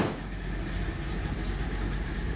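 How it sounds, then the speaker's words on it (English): Original Dodge 360 V8 with its original 727 transmission idling steadily in a 1979 Dodge Lil Red Express, a continuous low rumble with no voices. "demonstrate the original Dodge 360 engine and the original 727 in operation"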